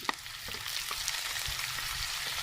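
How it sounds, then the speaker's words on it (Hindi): Browned onions sizzle and fry in a pan as green chillies go in, a steady hiss with a few small stirring knocks, fairly quiet and without talk. "और ये प्याज ब्राउन हो गया हमारा। अभी डालेंगे इसमें हरा मिर्च"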